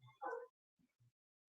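A dog at a home in Spain gives one short yelping bark followed by two faint low whimpers, heard alone against near silence.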